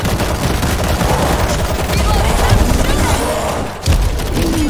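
Stationary machine gun firing in the zombie shooter World War Z, a loud continuous fusillade of rapid shots with a brief pause before firing resumes.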